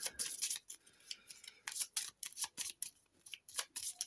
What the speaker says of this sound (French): Je vais mélanger tous les decks.